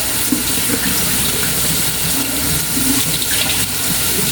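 Steady, loud tap water streams into a sink, with scattered clatter and splashes of a chopping board being rinsed under it.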